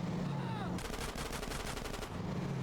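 Rapid bursts of gunfire in a video game, aimed at a bike, form a dense loud rattle over roughly a second and a half, with engine-like game noise before and after.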